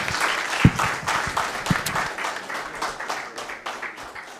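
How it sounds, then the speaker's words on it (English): An audience at a project kick-off meeting gives the children another round of applause, a loud burst of clapping that gradually tapers off, with a few sharper individual claps early on. "I think those kids deserve another hand of applause,"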